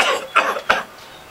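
A person coughs several times in quick succession, close and fairly loud, with harsh bursts and a brief pause, ending in near silence.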